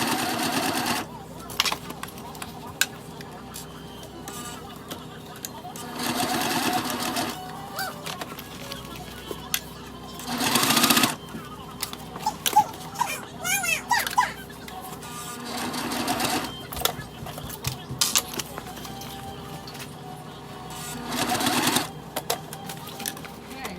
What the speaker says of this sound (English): we're gonna go ahead and sew that as close as you can to the inside line, catching both sides